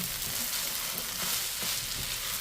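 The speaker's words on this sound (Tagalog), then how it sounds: "lalagay ko na yung ating rice" Freshly cooked rice sizzling steadily in a hot pan with garlic, a dense continuous crackle with occasional stirring scrapes, close and alone.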